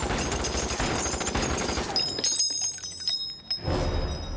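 A volley of gunshots rings out in a Doctor Who scene set against the Third Reich, a rapid crackling fusillade for about two seconds, then sparse sharp reports with faint ringing tones.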